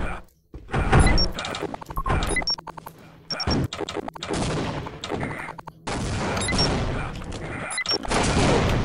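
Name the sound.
grenade explosions in video game Team Fortress Classic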